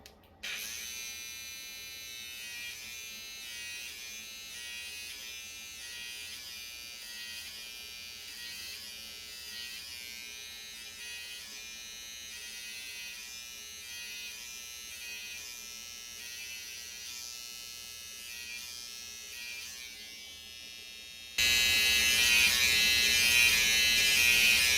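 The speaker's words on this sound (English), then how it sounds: "And don't slant the trimmer, put it straight" Electric hair trimmer buzzing steadily close up while cutting a line up, a constant whirring hum over about twenty seconds that jumps suddenly louder and harsher near the end.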